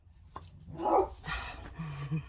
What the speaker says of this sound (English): if you hear the dogs in the background, I do apologize